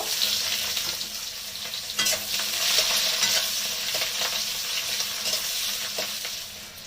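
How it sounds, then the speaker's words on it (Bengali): Whole garlic cloves and chopped onion hitting hot oil in a pan, a loud continuous sizzle with frying crackle and bursts of stirring scrapes throughout. "দেখুন কয়েকটা গোটা রসুন নিয়েছি আর পেঁয়াজ কুচিয়ে নিয়েছি, আমি এগুলোকে এবার দিয়ে দেব।"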